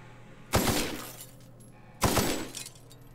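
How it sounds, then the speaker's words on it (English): Two loud glass-shattering crashes in The Outer Worlds, each a bright burst of breaking glass with tinkling debris trailing off, about a second and a half apart over a low game hum. "That's a satisfying glass breaking sound."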